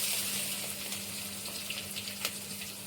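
Curry leaves and onion dropped into hot oil, a steady bright sizzle and crackle with small pops, fairly quiet and close, no talking.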